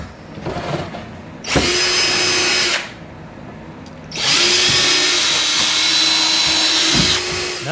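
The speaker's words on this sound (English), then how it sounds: "need to drill a 16th of an inch hole at each one of these angles" Power drill whirring in two bursts, a short run then a longer one, loud and close with a high motor whine, drilling sixteenth-inch holes in wooden kayak panels.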